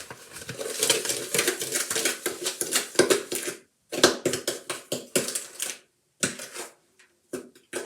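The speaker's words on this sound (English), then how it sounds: "I just mix it into the butter" Butter and added ingredients being mixed in a bowl for baking biscuits, a busy run of close scraping, clinking and tapping strokes in bursts with short pauses between.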